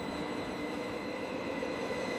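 A Matsuyama tram rolls along its tracks toward Dogo Onsen Station with a steady, even rumble and faint metallic hum, continuous throughout and heard from inside or nearby.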